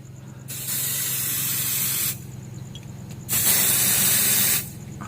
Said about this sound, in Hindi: थोड़ा सा स्प्रे कर लेता हूँ मैं।